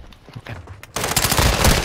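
Gunfire from the Warzone 2.0 video game: a few scattered shots, then a dense, loud burst of rapid automatic fire that stays close and continuous.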